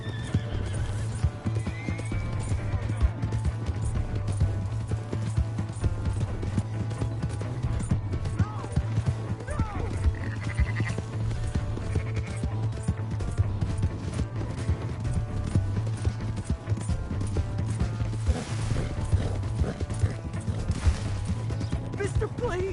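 Horse hooves clip-clop steadily through a busy Red Dead Redemption 2 game scene, with whinnies, creaking tack and a low constant rumble, while game characters shout at times over the hoofbeats.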